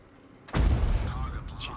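A single tank cannon shot in World of Tanks, a sudden loud boom with a rolling decay, with a voice speaking briefly.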